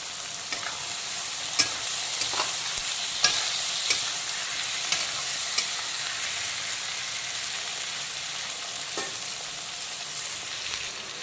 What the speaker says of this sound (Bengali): এখানে কাঁচা লঙ্কা, টমেটো আর পেঁয়াজ কুচিটা একসঙ্গে আমি ভাজবো।